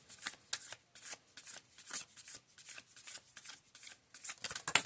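Tarot cards shuffled by hand for a reading, a quick run of soft riffling flutters and taps in an irregular rhythm, close and quiet with no talking.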